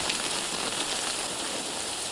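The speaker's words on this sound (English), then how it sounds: "Fucking rain never ends." Steady rain pours down in a dense, even hiss with no pauses, moderately loud and close, with no voices over it.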